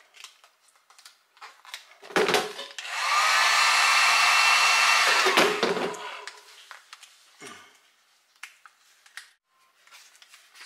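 A heat gun blows with a steady whooshing roar for about three seconds while softening vinyl wrap over car chrome trim. Scattered clicks and handling noises come before and after, close by.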